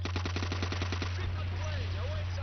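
Rapid burst of about ten evenly spaced rifle shots from a PTRS in Call of Duty 5 team deathmatch, close and loud, over a steady low hum, then fading into scattered game noise with faint whistling tones.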